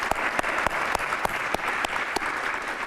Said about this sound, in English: a round of applause for such a phenomenal opportunity to be on stage